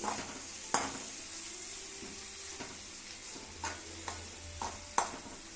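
Green chilies and onion fry in a pan while being stirred, a steady hiss of sizzling oil punctuated by several crisp taps of a spoon against the pan.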